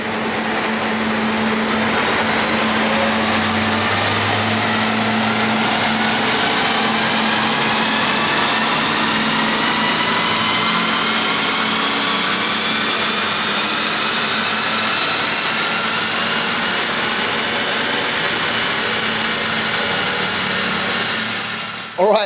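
Sustained loud roar of a BMW 335d diesel engine held at high revs on a dyno, a steady dense drone with whining tones slowly shifting, close and alone for the full stretch before cutting off at the very end.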